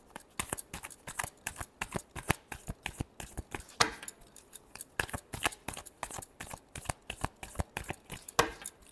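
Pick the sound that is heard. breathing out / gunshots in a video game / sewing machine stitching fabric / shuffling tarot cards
shuffling tarot cards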